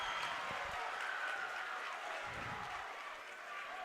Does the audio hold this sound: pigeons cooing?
no